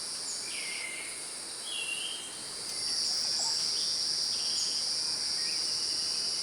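Male insects in Costa Rican wild forest, a dense steady chorus of high-pitched buzzing and trilling calls like crickets and cicadas, continuous and layered, with a few faint bird chirps mixed in.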